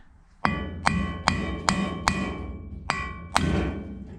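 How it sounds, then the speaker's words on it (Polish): Seven sharp hammer blows strike metal at an uneven pace on a root vegetable shredder being modified, each a crisp ringing knock over a low background rumble. "Dobijemy sobie młotkiem"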